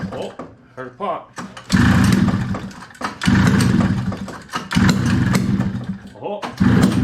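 A 1971 Arctic Cat snowmobile engine that sat unused for over fifteen years sputters and coughs in repeated loud bursts as it tries to start, with a person talking between attempts.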